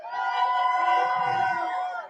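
A crowd cheering at a boxing press conference for Canelo Álvarez and Edgar Berlanga in Las Vegas: a loud sustained roar of many voices shouting together, swelling then easing off.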